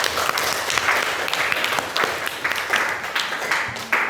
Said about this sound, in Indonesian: Ya, beri aplaus buat kelas MIPA